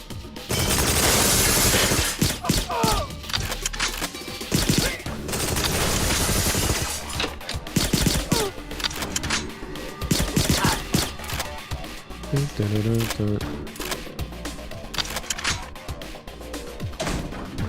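Gunfire from the video game Agent 64, with repeated bursts and single sharp shots in irregular clusters, plus clattering impacts and other game effects, loud and busy throughout.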